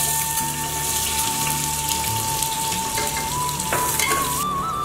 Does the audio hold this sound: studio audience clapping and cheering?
no